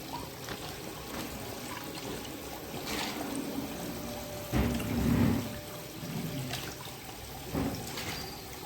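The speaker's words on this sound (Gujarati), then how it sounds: "હવે આપણે આ પતરી છે એ આ પાણીમાં નાખી દઈ. એક પાણી તો જો ધોઈ નાખી, હવે આ બીજું પાણી." Thin potato slices for wafers being rinsed in a basin of water, a continuous wet swishing with louder sloshing bursts as the slices are stirred and moved about by hand.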